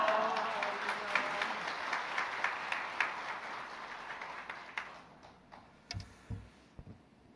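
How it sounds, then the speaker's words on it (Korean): A church congregation claps to welcome the visiting pastor to the pulpit at a worship service, a dense broadband applause that fades over several seconds into a few scattered claps and quiet. "큰 소리로 할렐루야로 화답하면서 환영하며 박수로 환영하시겠습니다"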